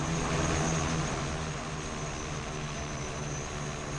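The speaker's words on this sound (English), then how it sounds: "the drone lifts up from the ground, pulls up the robot and puts it on the blade" A heavy-lift drone hoists a leading-edge repair robot up onto a wind turbine blade, making a loud, steady rotor roar and whine that holds unbroken throughout, with no voices.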